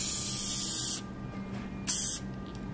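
A lacquer finish is sprayed onto a YETI 24 oz travel mug in two near, loud hissing bursts: a long one, then a pause and a shorter spray.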